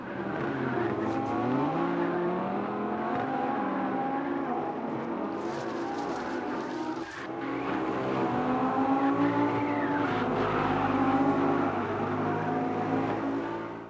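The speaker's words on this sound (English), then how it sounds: "I will put in a replay now of that with the sound of the tyres." Race car engine in the Rennsport racing game, revving and shifting continuously throughout with repeated tyre squeals mixed in, loud and close with no talk.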